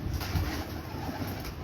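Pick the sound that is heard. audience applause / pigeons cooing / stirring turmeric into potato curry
pigeons cooing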